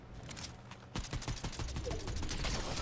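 Maven auto rifle in Fortnite firing a rapid stream of shots, quick rhythmic cracks that start after a short lead-in and continue steadily, fairly close.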